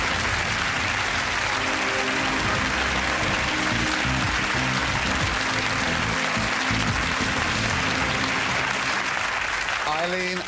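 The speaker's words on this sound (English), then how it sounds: "She deserves a round of applause, doesn't she?" Studio audience applauds steadily throughout on the National Lottery game show In It To Win It, a dense sustained clapping with a host's voice faintly talking over it and a brief voice near the end.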